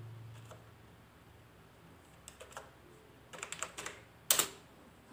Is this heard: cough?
no